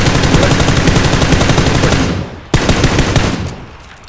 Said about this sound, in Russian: Он стоит, просто там стреляет.